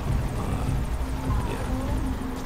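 A helicopter in the video game Metal Gear Solid V, a continuous loud rotor and engine drone with a rhythmic low chop, holding steady throughout.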